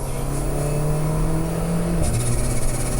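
An Alfa Romeo 4C Spider's turbocharged engine drones steadily at close range, then drops in pitch as a sharp blow-off valve hiss bursts out near the end, with no talking.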